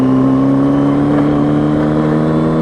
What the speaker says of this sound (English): foot on my lever, touch, little throttle blip, match the revs, you will feel it in the motor